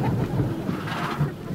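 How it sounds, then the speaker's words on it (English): Rain with a low rumble of thunder, a deep rolling roar close and steady under the downpour. "The rain's coming."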